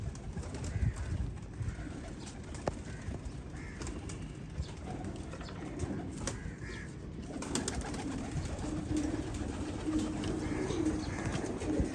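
Pigeons coo softly in low, repeated murmurs amid a busy background hum, with occasional wing flutters and faint clatter.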